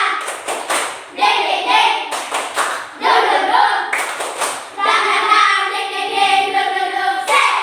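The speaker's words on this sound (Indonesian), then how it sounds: "Oke, tepuk tangan." Students in a classroom clap their hands together at a lesson's end, in several bursts of fairly loud, dense clapping separated by brief pauses, with some voices mixed in.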